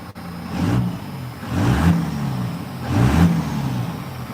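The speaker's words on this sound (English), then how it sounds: "What the hell are you revving at?" A first-generation Dodge truck engine revs three times in a row. Each rev is a low, mid-pitched surge that swells and falls back, loud and close by, and no one speaks.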